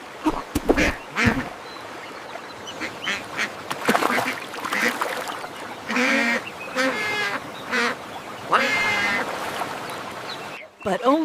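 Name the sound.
ducks quacking in animated song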